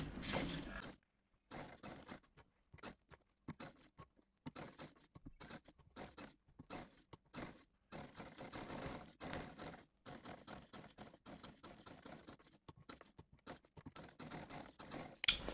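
A sewing machine stitches a collar band in quick, quiet mechanical bursts of rattling clatter, separated by short pauses, with no speech.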